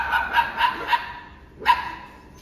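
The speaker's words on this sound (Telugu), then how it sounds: "ఎవరి కొత్త కుక్క" A dog barks several times in quick succession, three sharp yaps followed after a short pause by one more, close by with no other sound.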